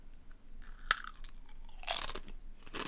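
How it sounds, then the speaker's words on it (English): A Doritos tortilla chip crunched near a microphone, a few sharp bites and crackly chews spread unevenly over about three seconds. "I'm going to crunch a Dorito now"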